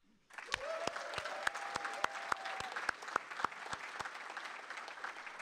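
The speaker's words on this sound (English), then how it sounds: "Please applause enthusiastically after each name is called." Audience applause for family members at a military retirement ceremony for a chief master sergeant, starting abruptly and sustained, with a few loud, distinct nearby claps cracking through the broad crowd clapping while a voice briefly calls out.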